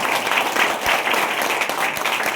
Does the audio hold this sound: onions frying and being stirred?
no